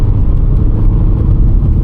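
A Volkswagen Scirocco, a light car of about 150 horsepower, speeding up on the road: a loud, steady engine drone and road rumble heard from inside the cabin, continuous and gathering pace.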